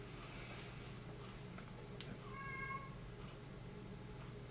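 A house cat gives a single drawn-out meow near the middle, quiet against a steady low hum in an indoor room, with no voices.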